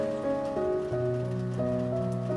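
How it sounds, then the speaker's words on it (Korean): Heavy rain pours in a steady, continuous hiss, with sustained soft musical tones layered over it throughout. "생각보다 많은 비가 내리고 있습니다."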